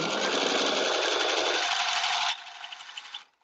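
A sewing machine stitches a caftan in a home studio, a loud, fast, steady whirring run that drops in pitch, then slows into a few separate stitches before stopping.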